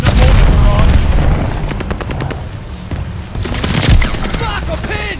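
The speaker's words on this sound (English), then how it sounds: "Allies calling the mortar barrage!" A mortar barrage in the Call of Duty: Vanguard video game, with heavy booms and rapid bursts of explosions and gunfire layered over rumbling battle noise, loud and close, with shouted voices mixed in.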